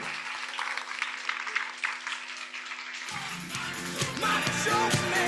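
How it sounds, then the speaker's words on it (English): Applause from a seminar audience after a talk, steady and dense throughout, swelling louder partway through as more hands join in, with a faint background hum and no speech over it. "Let's give another round of applause to Jie Chang."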